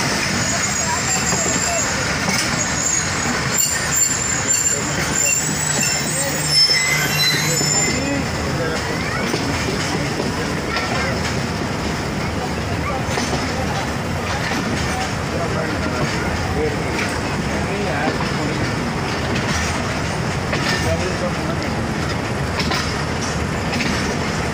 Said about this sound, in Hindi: 101 सतर्क रफ्तार एक्सप्रेस की जो है वो भी निकल चुकी है गुजर खान रेलवे स्टेशन से टूवर्ड्स पिंडी के